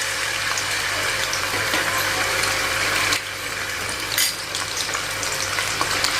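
Squid soaked in broth seasoning frying in oil that is not yet very hot, a steady close sizzle and crackle running throughout with a brief louder spatter near the end.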